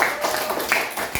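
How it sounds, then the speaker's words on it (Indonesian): Applause from a school class during a lesson, a short burst of dense, even hand clapping that stays at steady volume throughout. "Tepuk tangan untuk kita semuanya."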